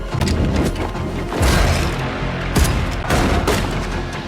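Gunfire in a fantasy film firefight scene, loud and dense with repeated shots and heavy booming impacts layered over a continuous roar, sharper bangs standing out at intervals.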